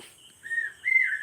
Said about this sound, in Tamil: குயில் கூக்கூன்னு கத்துதில் அந்த குயில் வேறு ஒன்றும் கிடையாது